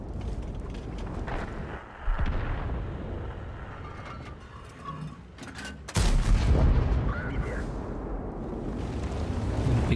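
An ISU-122-2 double-barreled tank destroyer in a video game fires one heavy booming shot over a constant mechanical rumble, following a smaller thump earlier.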